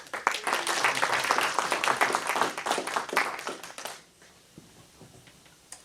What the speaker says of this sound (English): join me in giving another round of applause for everyone who's opened the service